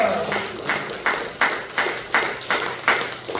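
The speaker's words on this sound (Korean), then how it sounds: "우리 예수님께 한번 감사 박수 올려드리겠습니다." Worship congregation giving a short round of thanks clapping, a few loud, evenly spaced claps ringing out in a reverberant church hall with no talking over them.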